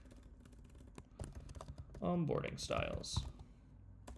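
Rapid clicks from a computer keyboard during coding work, close and quiet, continue under a man's brief speech in the middle of the stretch.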